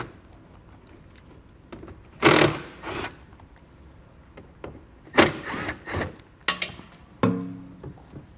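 A ratchet with a T25 Torx bit turns fasteners under a vehicle behind the rear tire, giving several separate bursts of quick clicking, close and fairly loud, between quiet gaps.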